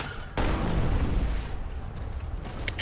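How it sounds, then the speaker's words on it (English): Reinhardt's Earthshatter ground slam in the Overwatch video game: a sudden heavy thud that bursts in early and then decays into a long rumbling tail, fairly loud with nobody talking. "Your team will only hear a thundery thud on the ground."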